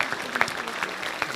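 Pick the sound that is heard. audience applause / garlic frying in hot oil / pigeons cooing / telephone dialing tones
audience applause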